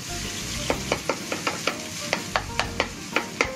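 Warm rice for omurice is chopped and folded with a spatula in a buttered frying pan, giving a steady run of sharp scraping taps roughly every quarter second over a low sizzle, close and fairly loud with no talk.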